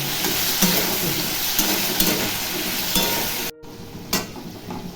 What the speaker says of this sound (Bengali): এই দেখুন আলুটা ভাজা ভাজা হয়ে গেছে।